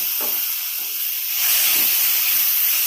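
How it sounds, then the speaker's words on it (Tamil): Finely chopped tomatoes, five of them, hit a pan of sautéed onions over medium flame, giving a loud, continuous close-up sizzle and hiss that swells slightly partway through. "இந்த அளவுக்கு வதங்கினோன்னே 5 தக்காளி பொடியாக கட் பண்ணதை போட்டுருவோம்."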